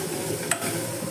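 Bajji chillies for a chutney sauté in a pan with a pinch of asafoetida, giving a steady close sizzle with soft stirring scrapes and one brief sharp click partway through.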